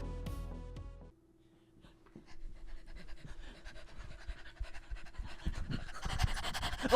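Three little puppies panting in quick, breathy bursts close by, with dog snuffling and a rising rustle of movement after a brief musical sting fades out.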